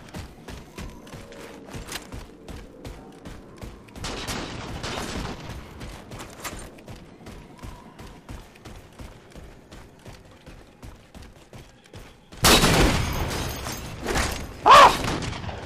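Video game gunfire: rapid, rhythmic shots ring out throughout, with short silences between bursts and a louder, denser volley near the end.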